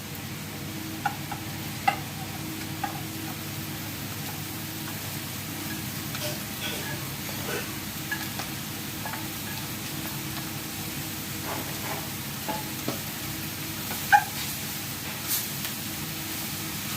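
Clam meat fries in coconut oil with a soft, continuous sizzle, punctuated by occasional light ticks and scrapes of stirring, moderately close and steady.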